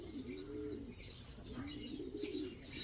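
A checkered racing pigeon coos in soft, repeated low rolling calls, fairly close, with faint chirps and background noise between them.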